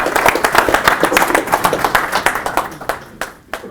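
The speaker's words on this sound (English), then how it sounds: "Let's give him a nice warm round of applause." An audience claps warmly for a speaker being introduced at a cybersecurity talk. The dense, steady applause tapers off toward the end, leaving a few scattered last claps.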